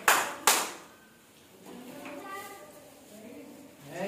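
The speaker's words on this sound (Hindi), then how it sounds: "तो चलो ऋतिक तालियां ध्यान से सुनना" Sharp hand claps from a maths counting game in a classroom, two loud claps at the start followed by quieter tapping and children's voices talking in the background.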